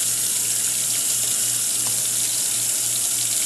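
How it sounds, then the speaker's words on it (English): Water from a tap pours into a kitchen sink in a steady, loud, close hiss, with a faint low hum pulsing underneath and no voices. "you also run your water into the sink"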